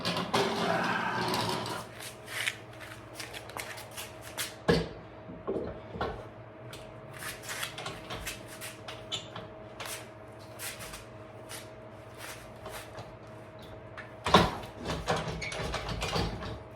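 Thule T2 four-bike rack slid into a rear hitch receiver, giving soft scraping and sliding metal clunks with a few sharper knocks near the start and one around the middle, quiet and close with a faint steady hum behind.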